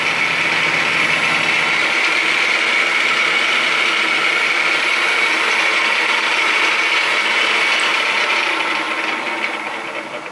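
A homemade carbide-tipped chamfer cutter bites into a workpiece with a continuous loud whirring, rasping cut, a low motor hum dropping away early and the tone holding steady before easing slightly at the end.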